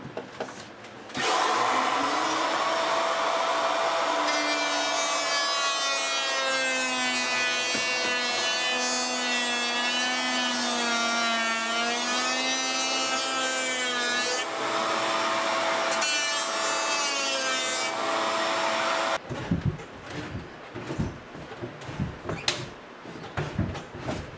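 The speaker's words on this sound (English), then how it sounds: "So I'm just going to use a planer rather than take it off and go to the table saw" A power planer trims wood on a dining room built-in, holding a loud, continuous whine with a wavering pitch for about eighteen seconds before cutting off, followed by clattering handling noise.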